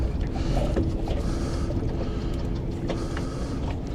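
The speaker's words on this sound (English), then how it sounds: "I can hear them dropping their anchor." An anchor is dropped from a nearby boat, a windlass grinding and chain rattling in a steady mechanical whir under wind and water noise, moderately distant and continuous.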